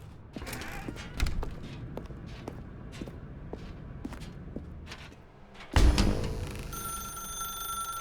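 A telephone rings in a video game, with a short tonal ring rising near the end after a series of soft footsteps and light thumps and a louder thud.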